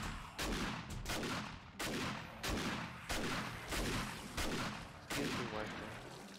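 Gunfire from 7 Days to Die rings out in repeated sharp bursts, about eight loud reports spaced roughly evenly with echoing tails, alone without talk.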